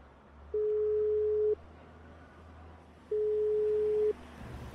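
An engaged busy tone on a phone call: two steady beeps about a second long each, separated by a pause, fairly clear over a low background hum.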